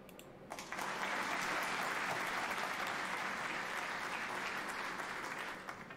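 Steady applause from a crowd, dense clapping that swells in, holds for several seconds, then tapers off.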